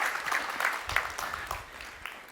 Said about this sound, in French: J'avais prévu de vous demander de les applaudir, mais je vois que vous le faites déjà